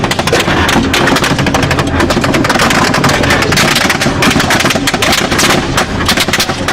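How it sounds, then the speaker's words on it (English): Heavy enemy gunfire against an armoured personnel carrier with Kenyan soldiers, loud continuous bursts of automatic fire and rapid overlapping shots that fill the whole stretch, close and harsh. "They came under heavy enemy fire."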